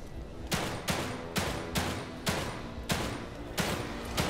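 Repeated gunfire in The Evil Within 2: about eight sharp, loud shots spaced roughly half a second apart in a steady rhythm, each with a short ringing tail, over a constant background and with no talking.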